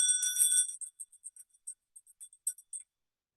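An old ancestral hand bell rings with a bright metallic tone, first a sustained shimmer, then a run of short, light, irregular chimes that fade into silence, fairly faint and with no talk.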